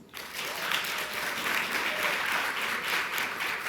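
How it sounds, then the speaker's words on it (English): A quick round of applause breaks out from parents at a school orientation, rising sharply at the start and holding as a steady, fairly loud wash of clapping. "let me hear a round of applause"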